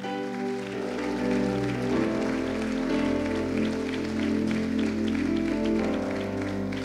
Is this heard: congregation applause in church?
yes